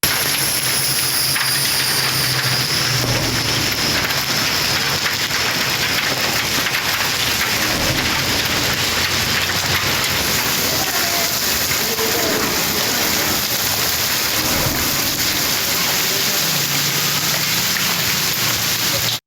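Steady drizzle falls in Lahore on a cool winter day, a dense, even hiss of rain on surfaces that holds without a break throughout.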